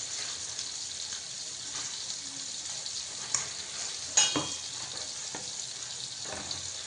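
Hilsa fish fries in a pan, giving a low, continuous sizzle with a few faint knocks and one sharper clatter partway through; no one speaks over it.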